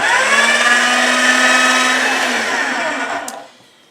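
A motorized pasta machine rolls out polymer clay, a loud steady whirring motor drone close by that winds down and stops near the end, with no one speaking.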